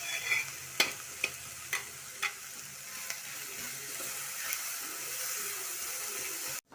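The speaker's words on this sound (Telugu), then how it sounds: "ఇప్పుడు చాట్ మసాలా వేసుకోవాలి. వీటిని బాగా వేయించుకోవాలి." Samosa stuffing seasoned with chaat masala frying steadily in a pan, a continuous sizzle broken by several sharp stirring scrapes, close and fairly loud with no voices.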